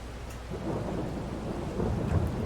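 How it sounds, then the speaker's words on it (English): In-game rain with rolling thunder in Farming Simulator 22, a steady dense hiss of rainfall over a low continuous rumble, with no pauses. "we'll do what we can while it's raining"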